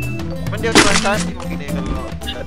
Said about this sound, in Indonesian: suara shotgunnya aku inget suara shotgun dulu cuy